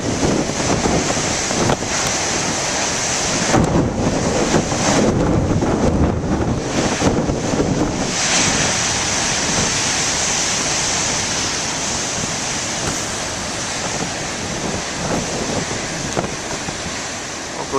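Heavy surf from huge waves pounds a shoreline in strong wind, a continuous loud roar with wind buffeting the microphone and no talking.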